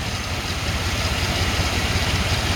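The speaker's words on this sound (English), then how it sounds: "Good running motor though." A farm truck engine with 240,000 miles idles steadily nearby, a loud low rumble with an even, continuous throb and no voices over it.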